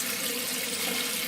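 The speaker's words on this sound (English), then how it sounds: "I'll fill that sink with cold water, and we'll let them soak for about 5 to 10 minutes" Cold water runs steadily from a tap into a kitchen sink to cool cooked beetroot, a continuous close hiss and splash with no talking.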